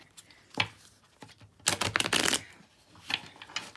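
Tarot cards are shuffled by hand in several quick, crisp riffling bursts separated by short pauses, close up and with no talking.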